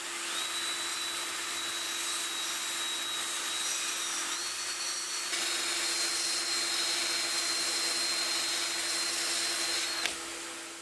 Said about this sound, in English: I'm going to use one of these drum sanders mounted in my drill